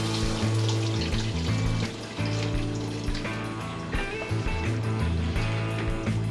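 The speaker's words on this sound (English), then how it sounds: "Make sure you got another pan under here before you undo the lower radiator hose. This thing's gonna probably gush out everything else." Coolant gushing from the lower radiator hose of a 2001 Chevrolet Silverado 1500 5.3L into a drain pan, a close, continuous splashing pour with bubbling gurgles and no voices.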